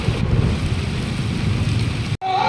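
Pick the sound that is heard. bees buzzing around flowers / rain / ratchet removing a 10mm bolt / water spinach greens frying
rain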